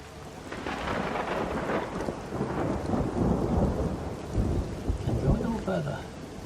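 Steady rain pours and thunder rumbles continuously in a storm within the video game Everybody's Gone To The Rapture, a dense, loud wash with deep rolling surges throughout.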